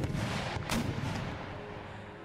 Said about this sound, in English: The artillery's engaging.